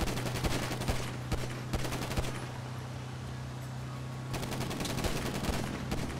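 Rapid automatic gunfire from the back of a moving vehicle in Grand Theft Auto V, heard as loud bursts of shots over a steady engine hum, with a pause in the middle before firing resumes.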